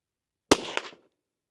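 A Savage Mark II .22LR rifle fires a single sighter shot: one sharp, loud crack followed by a brief ringing decay, alone in otherwise silent surroundings.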